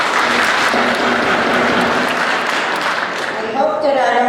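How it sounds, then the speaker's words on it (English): Audience clapping at a state legislative public hearing on House Bill 135, a dense sustained burst of applause filling the room before fading, with a voice starting to speak near the end. "I hope that I don't have to ask you to stop clapping again."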